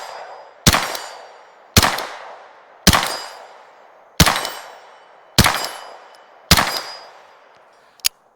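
Six sharp, loud rifle shots from an AKv9 fired at targets, spaced about a second apart, each ringing out with a decaying tail, followed by a brief metallic click at the end.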